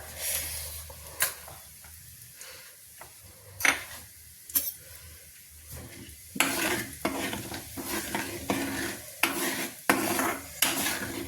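Mustard seeds sizzling in very hot oil for a carrot and chilli pickle: sparse sharp pops at first, then a denser burst of crackling and spattering with spoon clinks against the pan, nearby and unaccompanied by speech.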